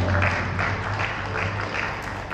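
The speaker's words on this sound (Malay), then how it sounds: "Para hadirin sekalian, berikan tepukan" Guests applaud at a Malay wedding reception as the groom is introduced. The clapping is a steady, dense wash of moderate loudness throughout, with no one speaking over it.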